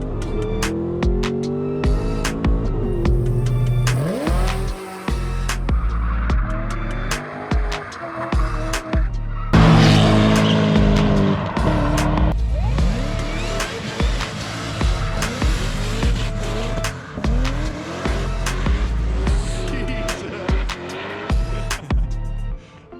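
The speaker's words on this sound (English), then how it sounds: "I think it'll do a burnout just fine." A 1978 Chevy C30 dually camper truck doing a burnout, its engine roaring and revving loudly with rising and falling pitch and a surge of noise partway through, close and sustained.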